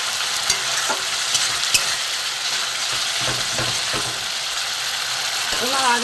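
Spices fry in oil for banana flower and moong dal, a steady close sizzle broken by the scrape and tap of a stirring spoon, with faint speech-like sounds near the end.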